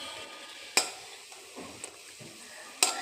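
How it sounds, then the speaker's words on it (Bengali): Bora fritters frying in a kadai give a soft, continuous sizzle, broken by a few sharp clinks and scrapes of a utensil against the pan. "তাহলে দেখলে তোমরা আমি বড়াটা ভাজা শুরু করে দিয়েছি।"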